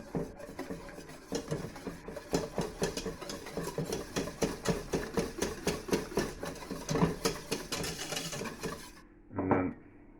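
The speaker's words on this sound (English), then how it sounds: "So I'm gonna whisk them to like a hard peak" Egg whites being whisked by hand to hard peaks for a meringue raft to clarify cloudy stock, a fast, even run of clicking strokes against the bowl, close and steady, then stopping with one short knock at the end.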